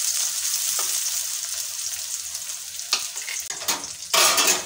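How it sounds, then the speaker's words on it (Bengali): Chopped onion for a chicken patty filling sizzles steadily in hot oil in a pan, with intermittent scraping bursts from stirring near the end. "একটু হালকা নাড়াচাড়া করে নেব কিছুক্ষণ।"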